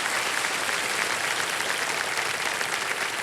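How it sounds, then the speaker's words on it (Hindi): A television game show studio audience breaks into loud, dense applause, a continuous wash of many hands clapping together with no pauses, close and full. "और जोरदार तालियां बज जाएं"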